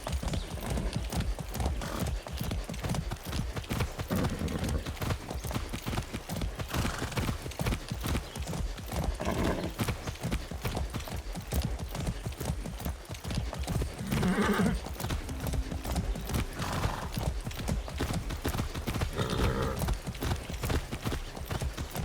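Hooves clip-clopping as a horse is ridden in Far Cry 6, a fast, steady galloping rhythm of close, loud hoofbeats sustained throughout, with occasional snorts and whinnies.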